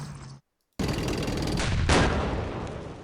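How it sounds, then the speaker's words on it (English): Anti-tank rifle fire in the World War II strategy game Campaign Series Rising Sun, set at Kwajalein, arrives as a loud, abrupt blast after a short silence, followed by a sustained rumbling roar and a second burst of noise. "Anti-tank rifle, more than likely."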